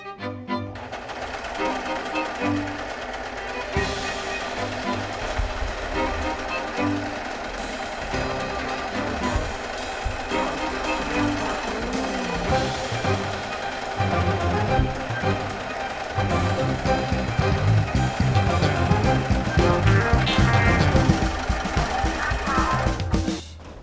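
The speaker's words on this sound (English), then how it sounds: "I'm just going to serge each and every side here" A serger overlocks the edges of cut fabric pieces for an 18th-century-style rectangular shirt, a steady loud mechanical whir running continuously for the whole stretch with a rhythmic undertone.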